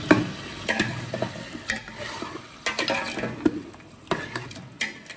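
Beef for Delhi nihari frying with garlic and ginger in a pot while being stirred, with intermittent scraping clacks of the spoon over a low sizzle, close and moderately loud.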